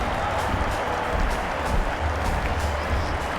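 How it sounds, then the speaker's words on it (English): A cricket crowd at Sydney Cricket Ground applauds and cheers, a dense, steady roar of clapping and noise from a large stadium audience with no single voice standing out. "Sydney Cricket Ground will stand and applaud"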